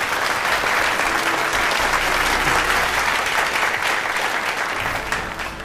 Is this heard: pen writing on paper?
no